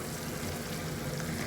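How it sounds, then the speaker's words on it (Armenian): Rooster meat frying in a pan, a steady close sizzle with faint crackling that holds evenly throughout, no voices. "Աքլորը լավ եփվում է"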